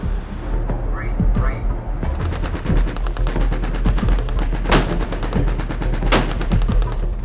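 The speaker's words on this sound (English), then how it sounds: "all the ships are going to open fire on the killer tornado at the same time" Loud bursts of heavy gunfire from several US Navy warships firing together boom out, with sharp cracks and rumbling blasts repeating over a steady low roar, and voices faintly underneath.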